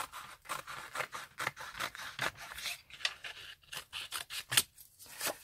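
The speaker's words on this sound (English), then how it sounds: "Let's just cut down a couple of strips." Scissors cutting strips of paper for a stamp and die craft project, a quick run of close, crisp snips and rasping cuts in irregular bursts, no talking.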